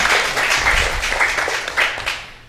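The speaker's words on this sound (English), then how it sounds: "So give yourself all a big round of applause for doing all of that." Audience applause fills a conference hall at a 2011 gerontology and elder abuse event in British Columbia, a steady dense clapping that holds for the whole stretch and eases slightly at the end.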